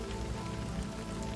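Steady rain falls in a TV drama scene, a dense even hiss of drops on surfaces with a low rumbling undertone, continuous and fairly close with no voices over it.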